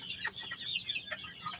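A gamefowl rooster clucks in quick, soft bursts at moderate distance, a string of short calls with no talking over them.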